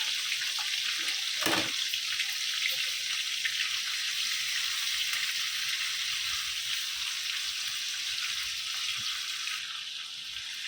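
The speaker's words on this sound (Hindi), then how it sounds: "और झींगे को फ्राई करके लेंगे" Prawns frying in hot oil in a home kitchen pan, a loud, steady, close sizzle with a brief sharper crackle early on, continuing without pause and easing slightly at the end.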